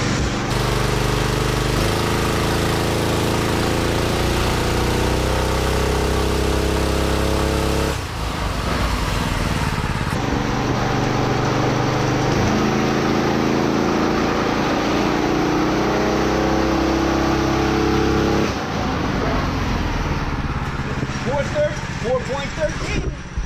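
A car engine runs on a dynamometer, loud and droning with shifting revs, cutting out partway and then running again as people talk over it.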